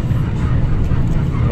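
An airport shuttle bus rolls along the tarmac near the runway, a continuous low engine rumble with road noise, close and fairly loud, while voices murmur faintly beneath it.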